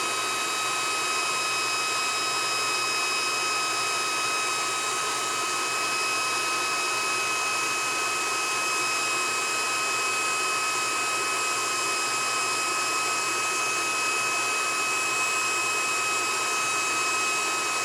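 Induction heater running steadily as it heats a seized nut until it glows red hot, giving a constant broadband whine and hiss with steady high tones, loud and unbroken throughout, with no talk.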